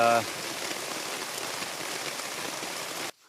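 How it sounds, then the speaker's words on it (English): Heavy rain pours steadily onto a backpacking campsite in Frontenac Park in August, a dense, constant hiss of drops on saturated ground that continues evenly for about three seconds, then cuts off abruptly. "the rain's coming down so hard and so fast it can't absorb into the ground"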